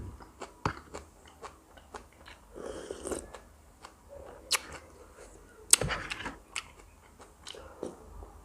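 Close chewing and crunchy bites while eating rice with a curry of white wood mushrooms and sponge gourd, scattered irregular bites with soft mouth sounds and short pauses, no talk.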